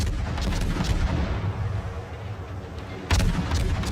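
In World of Warships, heavy naval guns on the Lo Yang boom in several loud, deep salvos, each a sharp blast trailing into rumbling reverb amid continuous battle noise.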